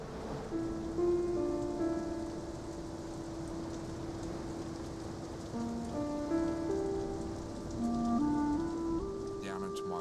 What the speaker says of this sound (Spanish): comenzó a llover.